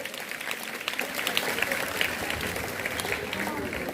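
Applause at a government high school Independence Day ceremony as students are honoured, a steady wash of many hands clapping at moderate distance, mixed with talk from the crowd.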